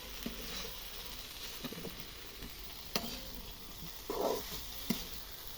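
Fresh winter vegetables fry in a pan in a home kitchen, a faint, steady sizzle broken by a few soft clicks and a brief louder spatter.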